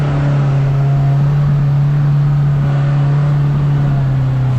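A 2022 Polaris RZR Pro R 4 side-by-side crawls over rocks, its engine a steady, loud, continuous drone with a strong low hum throughout and no voices.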